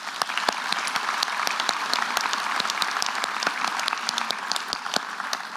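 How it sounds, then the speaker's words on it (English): Audience applause at a school prize giving honouring cross-country and relay achievements: dense, continuous clapping from a crowd with crisp individual claps scattered throughout, steady and fairly loud for several seconds, no talking. "So we'll clap there."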